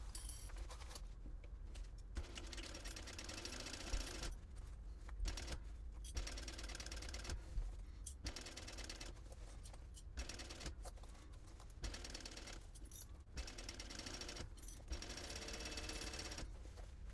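A sewing machine bastes fabric for a packing cube with a narrow seam allowance, a faint rapid mechanical chatter broken by brief pauses, with no talking.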